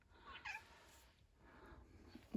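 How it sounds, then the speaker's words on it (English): A cat indoors gives a couple of faint, short meows, quiet and somewhat distant, over low room noise with no talking. "Cat's back."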